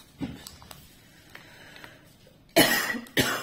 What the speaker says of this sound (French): Je pense que vous allez m'entendre tousser.